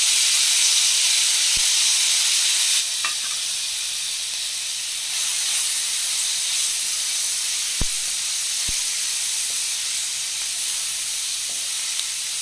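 Onion, potato and chillies sizzle steadily in a hot pan, a loud, close, continuous hiss that eases slightly partway through and then carries on, with a few faint clinks and no talking.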